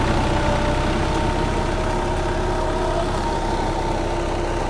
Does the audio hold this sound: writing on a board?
no